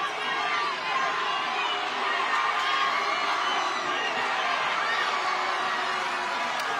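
Large crowd at a high school football game between Exeter and Strathmore, a dense, sustained roar of jeering and shouting from many voices, steady and loud throughout, with some chatter mixed in.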